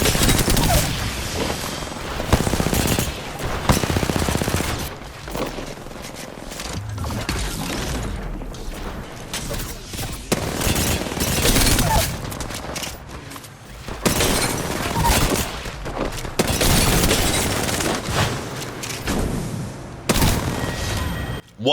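Rapid bursts of video-game gunfire in a squad-based shooter, sustained loud volleys and fusillades with booms and mechanical clatter, continuous across the stretch with faint talk underneath.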